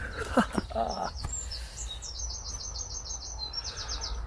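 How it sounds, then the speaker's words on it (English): Small birds chirp in quick repeated trills and tweets nearby at Godstow Abbey ruins, over a low outdoor rumble, with a brief rustle at the start. "Now I've woken up all the birds on this side."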